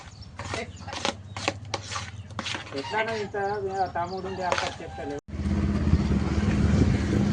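A motorcycle carrying three riders and buckets of curd rice, with its engine rushing in loud and steady over wind noise after a stretch of talking.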